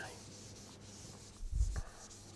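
A short rubbing swipe of writing being wiped off a board during an electronics lecture, a soft scuffing pass with a brief heavier thump near the middle, close and fairly quiet.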